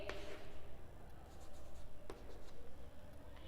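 A pen scratches across paper close by, with faint soft strokes and a couple of brief louder ticks, quiet and alone in a low room hum.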